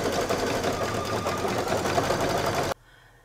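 An embroidery machine runs a satin stitch border on an in-the-hoop home decor bunting, a loud, steady, rapid mechanical whir that continues alone for nearly three seconds before stopping abruptly.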